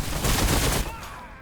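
Necron units in Warhammer Battlesector open fire in a dense burst of rapid shots that fades out after about a second.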